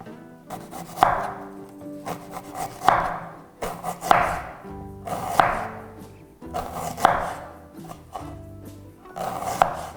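A knife slicing pears thinly on a board, storm-fallen fruit being prepared for a bellflower-root and pear syrup, heard as steady, close, rhythmic cutting strokes about every second and a half over low background sound.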